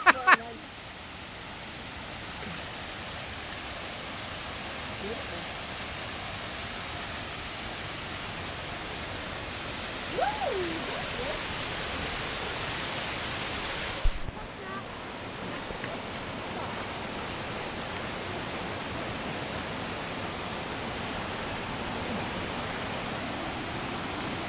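A waterfall on the trail to Ghandruk in Nepal roars as a steady, broad rush of falling water through the full clip, with occasional faint wind buffeting on the microphone and brief quiet voices in the background.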